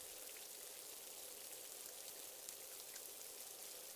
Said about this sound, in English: The steady sound, the singing of the rain.